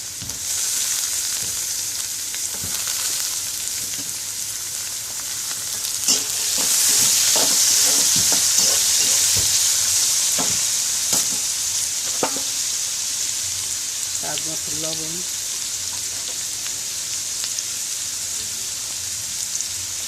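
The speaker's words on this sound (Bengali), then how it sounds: "এখন আলুটা দিয়ে ভাজবো ভালো করে" Potatoes fry in hot oil for a shrimp and bitter gourd chorchori, a loud steady sizzle running throughout with scattered spatula clacks and stirring scrapes near the middle and again later; no one speaks.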